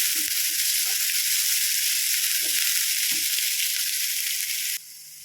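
Finely sliced onion and a green chili sauté in a hot pan for onion puttu, a loud, even frying hiss with soft spoon scrapes scattered through it, cutting to a quieter sizzle right at the end, no speech.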